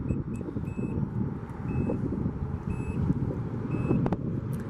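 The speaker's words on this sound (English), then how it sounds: "This one also is equipped with a power trunk." Power liftgate on a 2009 Nissan Murano LE AWD opening, a warning beep repeating at a steady pace about once a second over a low motor hum and background noise.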